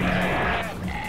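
A sheep bleats in the video game Moose Life, a short wavering cry mixed with game sounds and continuous background music.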